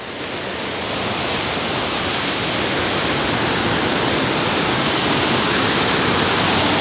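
A waterfall at Barra do Palmital roars in a steady, loud, broadband rush that swells slightly in the first second and then holds constant, close and alone with no voices.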